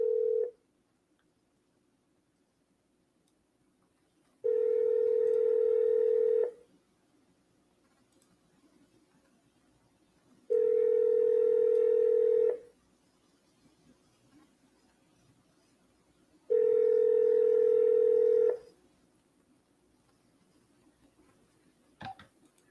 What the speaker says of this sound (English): let's give Johnny here a call. If we can get him on the phone, great